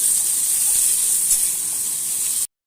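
Boiled potatoes being stirred in oil in a kadai give a constant close hissing sizzle that holds steady for over two seconds and then cuts off abruptly.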